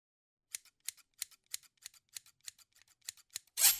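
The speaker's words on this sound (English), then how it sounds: "Careful with those scissors" Hair-cutting scissors snip in a steady run of about ten crisp, close metallic clicks, each followed by a faint echo click, before a sudden louder burst of noise cuts in at the end.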